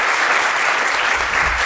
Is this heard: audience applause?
yes